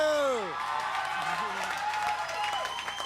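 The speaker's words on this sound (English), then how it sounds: "Cheap applause" Studio audience at a live music television broadcast applauds and cheers in a steady patter of many hands, with scattered whoops and a voice speaking over it.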